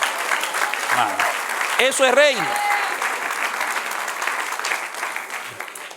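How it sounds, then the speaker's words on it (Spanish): A church congregation applauding during a sermon, with sustained clapping filling the room while someone speaks briefly over it. "Denle un aplauso al Señor."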